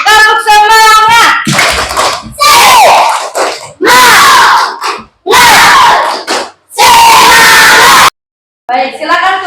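Schoolchildren in a classroom doing a 'tepuk semangat' spirit clap chant, loud shouted rhythmic syllables in bursts punctuated by group clapping, close and energetic with brief pauses between phrases.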